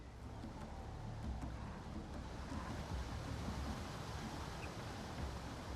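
Steady rushing river water in the Baldur's Gate 3 game world, a broad continuous wash of flowing current with no voices, even in level throughout.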